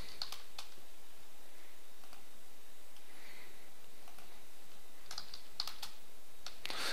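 Someone types on a computer keyboard while composing Facebook posts. Short bursts of crisp, close keystrokes are separated by pauses, with a quick flurry of taps near the end.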